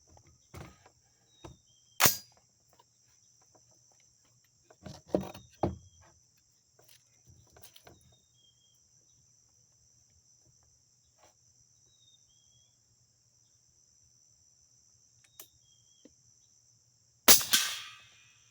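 A POF Revolution rifle fires several sharp, widely spaced shots outdoors, the cracks sounding fairly faint against a constant background chirp of crickets.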